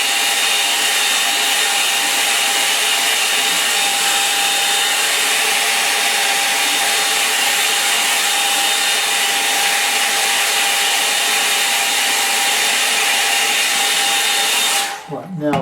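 A hair dryer blows continuously at close range over a watercolour painting of a wintry lake, a steady whirring whoosh with a constant whine that cuts off abruptly at the very end.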